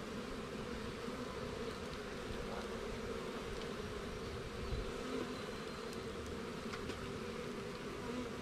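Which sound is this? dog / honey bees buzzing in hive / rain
honey bees buzzing in hive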